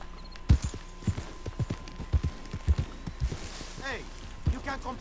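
Horse hooves clip-clop in Red Dead Redemption 2, a run of regular hoof strikes close by over a low background, with a bird-like whistling near the end.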